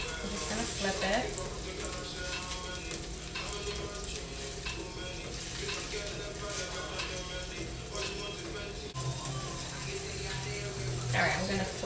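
Chicken cutlets fry on a stove in a pan, a steady loud sizzle with crackling pops throughout, under occasional kitchen clatter and a voice.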